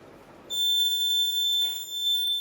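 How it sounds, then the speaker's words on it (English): A water level buzzer alarm on a school science project sounds a steady, piercing electronic tone, loud and close, starting abruptly and holding continuously with a brief dip near the end. "Now, can you see the buzzer is ringing?"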